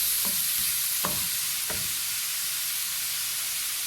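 Onions frying in oil in a kadai give a continuous close hiss and sizzle, broken by three soft stirring scrapes in the first two seconds, with no voices.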